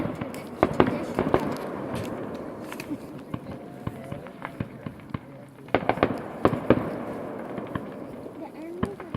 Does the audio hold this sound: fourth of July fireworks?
yes